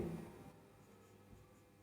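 Chalk or marker scraping across a board during a class 7 maths lesson, a few short faint strokes in a quiet room with no talking.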